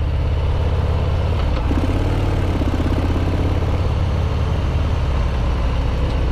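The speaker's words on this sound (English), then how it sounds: "The exhaust sound is different. Kinda sounds more like a fart." A 2020 Harley-Davidson FXDR motorcycle exhaust rumbles steadily and loud, a deep continuous low engine drone running through the whole stretch with no talk over it.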